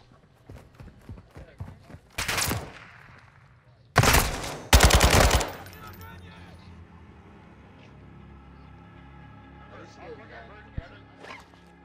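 Call of Duty gunfire crackles in short bursts: a rapid burst, then two louder automatic volleys back to back, followed by quieter game sounds.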